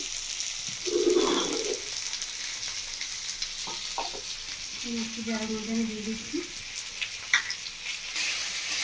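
Onion, tomato, raw banana and potato frying together in a pan for a rohu fish curry, a steady close sizzle with a few clinks and scrapes, while someone speaks briefly over it.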